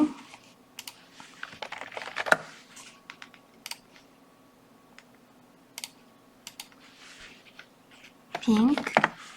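Someone types on a computer keyboard in short bursts of quick clicks and scattered single key presses, fairly close and clear, with a brief voice at the end.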